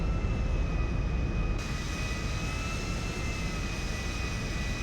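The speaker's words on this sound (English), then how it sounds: "a DC-9 pushing out right now in front of us" A DC-9 jet airliner in Grand Theft Auto V gives off a steady, loud engine roar with a sustained high whine, droning evenly without pause.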